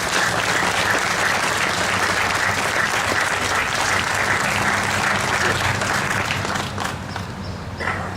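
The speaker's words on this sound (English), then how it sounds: "I ask this crowd gathered here today to give a big round of applause to all the veterans here and everywhere in the world." Crowd applause for veterans at an outdoor Memorial Day service, a thick continuous wash of clapping from many people that holds steady and thins slightly near the end, loud and close.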